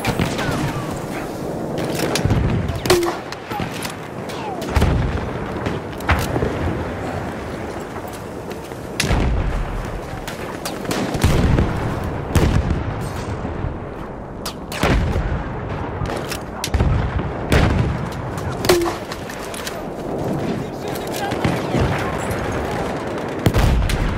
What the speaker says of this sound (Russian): Граната пошла, берегись.